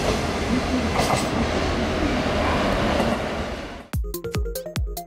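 A freight train on the JR Hokuso freight line near Amagasaki Station in Hyogo rumbles loudly past up close, then its wheels clack over rail joints in a rapid, rhythmic series of sharp beats.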